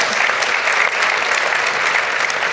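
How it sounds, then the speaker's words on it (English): An audience at an MFA EX Melbourne 2023 event applauds women athletes, a loud, dense, sustained clapping that fills the moment with no talk over it. "Women athletes, if you want to clap that, I'm happy for you to clap"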